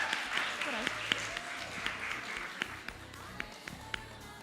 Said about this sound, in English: Can you please give them a round of applause when they come to the front?